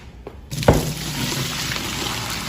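Boiled water and vinegar are poured off meat from a pot into a kitchen sink, a steady loud rushing splash that starts abruptly and continues with no talk.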